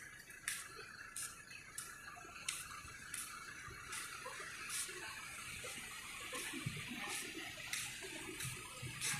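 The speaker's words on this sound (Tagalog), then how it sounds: "ang hampas ng tubig" Water slaps and splashes repeatedly against a boulevard seawall in faint, irregular bursts over a constant wash, heard from close by with no talk.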